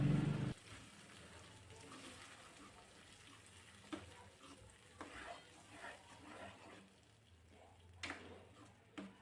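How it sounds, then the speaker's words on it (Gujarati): Dal added to a pot of Gujarati panchratna dal and stirred, a faint wet sizzle with soft irregular spoon strokes and scrapes, close but quiet, with no talk. "એમાં હવે આપણે દાળ નાખી દઈશું અને સરસ રીતે મિક્સ કરી એને ચડવા દઈશું"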